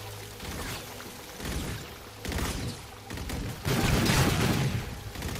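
Sustained gunfire in Call of Duty: Infinite Warfare, with dense overlapping rapid shots that swell louder toward the end, heard alone without speech.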